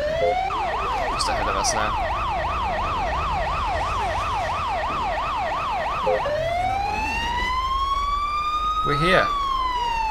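A London Fire Brigade fire engine siren in the GTA 5 video game wails in a rapid two-tone warble, then switches to a long rising-and-falling sweep. It plays loud over engine noise while someone talks.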